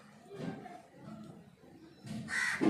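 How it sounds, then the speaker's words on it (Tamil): A crow caws outside, a few hoarse calls close by in a short burst, with the last calls louder and harsher near the end. "காக்கா கூப்பிடுது பார்"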